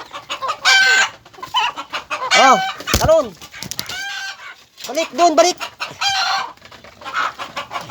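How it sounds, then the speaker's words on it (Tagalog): Backyard chickens squabble over scattered feed, with agitated clucks, squawks and wing flutters coming in bursts up close, while someone speaks briefly over the commotion. "Nagkagulo na ang aking mga alagang manok guys."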